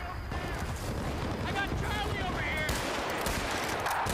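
Pistol fire in the Vietnam expansion of Bad Company 2 as a player takes potshots at enemies, sharp shots cracking over a constant loud din of battle and background gunfire.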